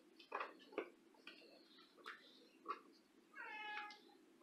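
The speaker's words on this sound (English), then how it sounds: "You hear the kitty cat?" A cat meows several times in short, faint calls, ending in a longer drawn-out meow, with quiet kitchen background.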